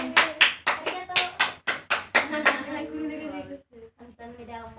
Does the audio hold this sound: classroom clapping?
yes